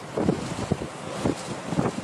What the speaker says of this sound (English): Rough seas, turbulent waves, and unnaturally high tides. This is all due to an incoming storm, Cyclone Biparjoy.